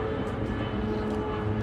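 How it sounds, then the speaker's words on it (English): Airplane flying overhead, a steady broadband engine drone holding at even loudness with a faint low tonal hum running beneath it, alone without talk. "I hate when planes sound like that one that you guys hear right now."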